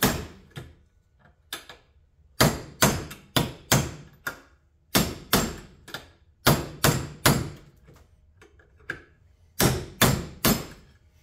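A hammer tapping out the front wheel bearing on a 2006–2007 Polaris Outlaw 500 ATV: sharp metallic taps in quick clusters of two to four, close and loud, with short pauses between.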